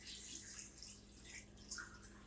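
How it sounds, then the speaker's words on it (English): Cold water poured into an Instant Pot to make chicken stock, a continuous splashing, trickling pour heard steadily throughout at moderate volume with no talk. "We're going to pour that in, and it's cold water."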